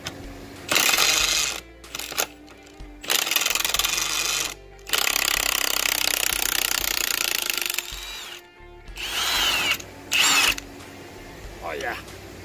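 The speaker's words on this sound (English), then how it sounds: "for heavy duty, go with the high torque impact wrench" High-torque impact wrench driving a lag screw, loud rapid hammering bursts in several long runs separated by short pauses, with a voice talking in between.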